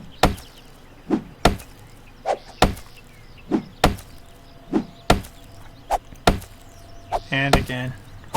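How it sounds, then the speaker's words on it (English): Trees being chopped for wood in the 7 Days To Die video game: repeated sharp axe thwacks land about every half second to second, loud and close, with a brief rattling clatter near the end. "I'm going to harvest several trees"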